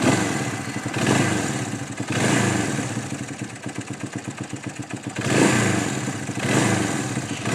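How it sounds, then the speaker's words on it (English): A 1970 Honda CB175 Super Sport motorcycle cranks and fires, then runs close by with blips of revving between a steady, rapid idle pulse, loud and with no voice over it. "This bike cranks easy."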